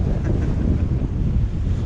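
Strong wind while sailing near Martinique, a loud steady rush of gusting air buffeting the microphone, mixed with a low wash of waves, alone without voices for a brief moment.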